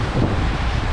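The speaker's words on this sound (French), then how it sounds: "Bah, enfin, du vent!" Steady wind rushing over a microphone on a sailboat crossing the Indian Ocean between the Seychelles and Zanzibar, with a low rumbling roar and possible wave wash, loud and continuous for the whole second.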